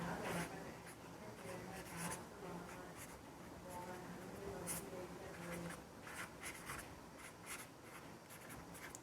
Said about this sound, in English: I'll go ahead and write down something.